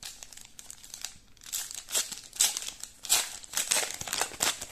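A Topps Match Attax Bundesliga eco-pack wrapper being torn open, with close crinkling and ripping plastic in several loud bursts, no voices.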